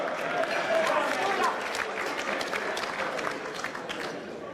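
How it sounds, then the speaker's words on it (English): An audience claps steadily, filling the space, while someone talks over the applause. "Give him a round of applause, folks"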